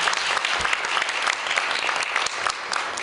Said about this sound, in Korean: 시상해주신 나정은 교수님과 입상한 팀에게 큰 박수 부탁드립니다.